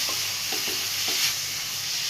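Vegetables and tomatoes for a watermelon-peel curry sizzling in a hot pan with a few soft stirring scrapes, a close, steady hiss.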